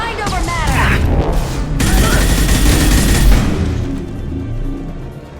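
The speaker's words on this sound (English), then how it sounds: "Firing a high-impact shot." Close, loud gunfire bursts and booming impacts from a Mass Effect 2 firefight, a sustained volley that swells and then fades out toward the end.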